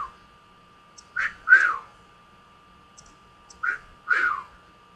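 A pet bird whistles a tune in two short warbling phrases separated by a pause, clear and close over a quiet room with a faint steady tone in the background.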